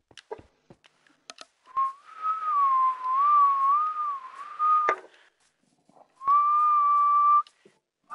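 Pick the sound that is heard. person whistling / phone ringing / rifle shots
person whistling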